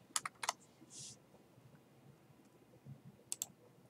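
Fingers type on a computer keyboard in a few short clusters of crisp key clicks, with near, quiet pauses between the bursts.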